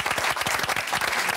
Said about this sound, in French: on applaudit Hassan qui nous quitte